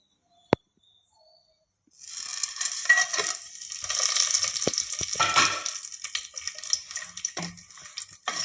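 Whole spices sizzle and crackle steadily in hot ghee in a pan: cloves, peppercorns, cinnamon, star anise, shahjeera and both black and green cardamom, with a sharp tap at the start, then continuous close frying with occasional clinks and no talk.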